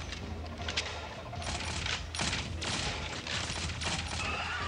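Rapid bursts of gunfire in the sci-fi shooter game Shadowgun Legends, dense overlapping shots clustered in several volleys, loud and close, with no talk over them.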